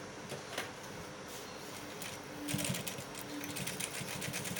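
A sewing machine stitches fabric for a senator outfit, with a steady rapid mechanical whirr running throughout, growing busier and louder partway through, close by and without talk.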